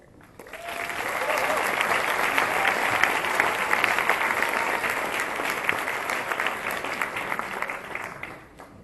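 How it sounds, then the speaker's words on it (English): Sustained audience applause for a poet taking the stage at a live performance event, a dense steady wash of clapping that swells quickly, holds loud and even for several seconds, then tapers off at the end. "Please give a warm applause for Nikkita Oliver."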